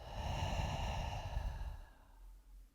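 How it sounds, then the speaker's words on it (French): One long, soft exhale through the mouth during a vinyasa yoga practice, close and breathy, fading out over about two seconds. "Et une longue expire par la bouche."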